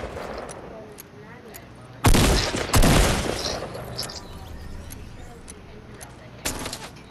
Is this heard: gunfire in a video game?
yes